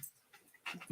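A dog whimpers faintly indoors in a quiet room, with a few soft, brief whines near the end.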